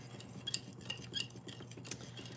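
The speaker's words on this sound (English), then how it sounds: "The more frequently I stir, it's starting to melt." Metal spoon stirring melting beeswax in a pot: light irregular clinks and scrapes against the pot, faint and close, with a low steady background hum and no talking.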